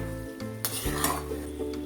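Instant mixed vegetable pickle is stirred with ground spices in a pan on a switched-off stove, giving a soft scraping stir over a faint lingering sizzle, with a couple of clearer utensil scrapes near the middle.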